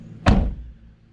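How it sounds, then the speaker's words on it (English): A car door closing with a bug net caught in its seal, on a car camper: one solid, muffled thunk that decays quickly, close and fairly loud, with no talking. "when I close the door, I'm actually closing the bug net in the door"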